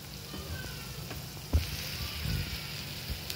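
Green chillies frying in hot oil in a pan, a soft steady sizzle with a few faint clinks and stirring knocks, no talk.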